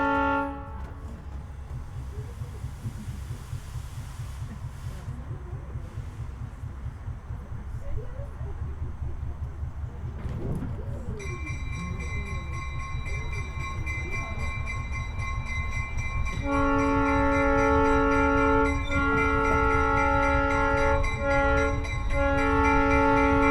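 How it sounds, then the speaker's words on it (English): A Sugar Pine Railroad train at Yosemite rumbles and chugs steadily, with faint voices early on, then sustained horn blasts sound loud and close as it departs the station. "Train is ready to depart."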